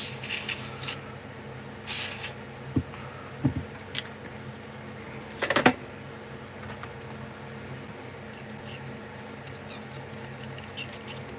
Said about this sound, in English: So before I put it away, I need to spray it out real quick.